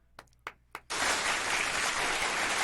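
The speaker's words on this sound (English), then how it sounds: "give her one more applause" Audience applause breaks out for a guest in a Detroit podcast studio, three sharp claps first, then a sudden, loud, sustained burst of dense clapping that carries on to the end.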